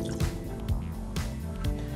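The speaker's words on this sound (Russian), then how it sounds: "Теперь я сюда заливаю воду" Water glugs into a saucepan for agar syrup in a series of rhythmic pours and splashes, close and fairly quiet.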